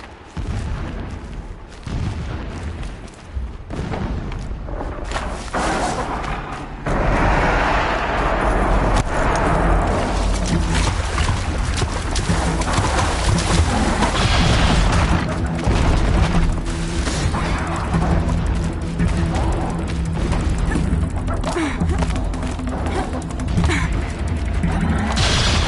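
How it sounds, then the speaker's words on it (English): Distant explosions in the Horizon Zero Dawn video game, a dense run of heavy booms and crashing rumbles that starts muffled, then swells into a loud, sustained barrage. "explosions in the distance"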